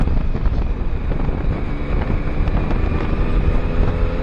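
Yamaha MT09 motorcycle exhaust with the baffle fitted, running as a steady, dense low rumble with a constant throb, close and continuous with wind buffeting over it.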